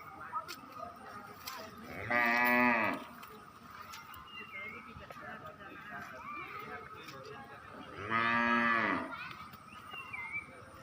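Two long, loud moos from a cow a few seconds apart, near, with quiet voices and background sounds between them, amid floodwater surrounding the cattle.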